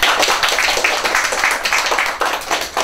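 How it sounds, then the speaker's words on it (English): Graduation awards ceremony audience clapping for a student receiving CSEC results, a moderate round of hand claps with uneven rhythm, fairly close, no speech over it. "Round of applause."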